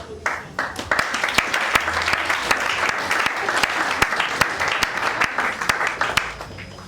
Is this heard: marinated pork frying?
no